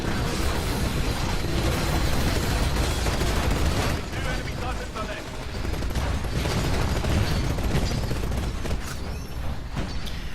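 Rapid, continuous automatic fire from the accelerator chain gun in Titanfall gameplay, a dense rattling barrage that runs almost without pause through the whole stretch, loud and close, with game combat noise layered underneath.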